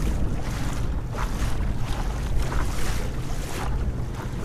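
An Old Town Predator PDL pedal kayak glides through water at about three miles an hour, with continuous splashing and swishing against the hull, mixed with gusty wind buffeting the microphone.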